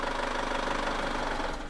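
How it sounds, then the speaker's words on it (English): A 2017 Chevrolet Captiva engine runs with a rapid, even mechanical ticking pulse that fades and drops away near the end as it stalls once the fuel pump is cut, heard up close with no voices. "the engine just stalled on us"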